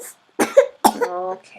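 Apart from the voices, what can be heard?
cough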